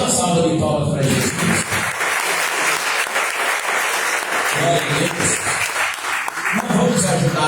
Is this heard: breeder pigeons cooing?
no